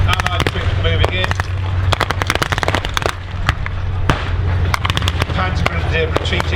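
Blank-fire gunfire from a battle reenactment of US Army troops against Panzer Grenadiers at Tankfest 2022, Bovington Tank Museum's Kuwait Arena: dense, rapid crackling shots and bangs over a low rumble, with a commentator's voice heard.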